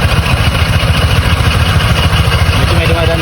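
A Honda Click V3 scooter idles with a noisy CVT, heard up close as a loud, steady, low mechanical rumble with a rapid pulsing rattle throughout.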